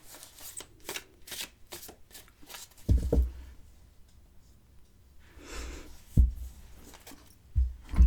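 Tarot cards are shuffled by hand for a card draw, giving a quick run of riffling flutters followed by a few soft thumps and slaps as the deck is handled, close up, with a few breaths between and no speech.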